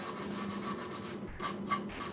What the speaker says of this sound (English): the traditional way of hand sanding.